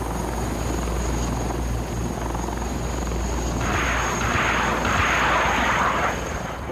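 Tiger attack helicopter flying, its steady rotor and engine drone filling the whole stretch, with a brighter hiss swelling in the second half as it passes nearer.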